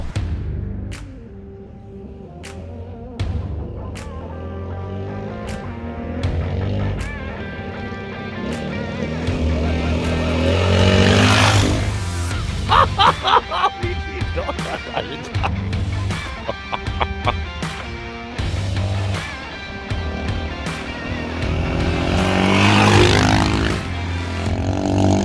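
Honda XR650R motorcycle fitted with a Lectron carburetor, ridden hard with a loud, steady engine drone rising and falling through revs, with wind rush and a few sharp surges, close and continuous.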